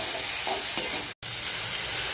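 Vegetables with chilli powder and chopped tomato fry and sizzle in a pan while being stirred, a steady close hiss with a brief scrape, broken by a short cut of silence.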